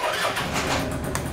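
A Malaguti F16 scooter engine starts up and runs with a steady, rough, broadband mechanical roar close by through the whole short stretch, with no talking.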